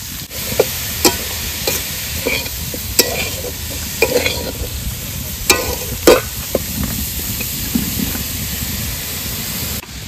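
Onion, tomato, carrot, capsicum and other vegetables stir-frying with chicken in a pan for chicken rolls: a constant loud sizzle and hiss, punctuated by sharp scrapes and clacks of stirring every second or so.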